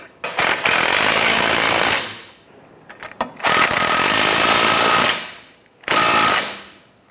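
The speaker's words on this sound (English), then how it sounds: "Using our 16mm wrench, we're going to go ahead and put it on the head of the bolt and we'll tighten down the nut" Loud, sustained mechanical hammering in three long bursts with brief gaps, close by, from tightening a ball joint nut with a 16mm wrench on the front lower suspension of a 2006-2013 Chevrolet Impala, likely with a powered impact tool; no talking.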